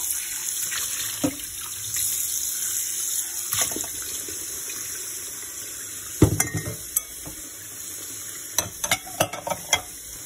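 Tap water running at home while bowls are rinsed, a steady background flow broken by scattered clinks and knocks of the bowls, near and moderately loud.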